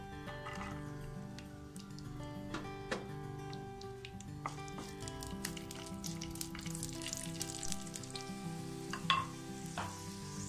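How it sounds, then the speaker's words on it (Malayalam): Raisins frying in ghee in a pan, a steady soft sizzle with scattered pops and clicks that grows a little busier toward the end, with no talking. "ഈ നെയ്യില് നമുക്ക് ഈ മുന്തിരി ഇട്ട് വറുത്തെടുക്കാം."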